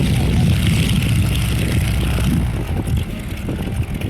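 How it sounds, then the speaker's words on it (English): A Stearman biplane's Continental seven-cylinder radial, 220 horsepower and 670 cubic inches, runs at an airshow with a steady, loud, close propeller drone that wavers slightly without pause. "Continental 7-cylinder engine, 220 horsepower, 670 cubic inches."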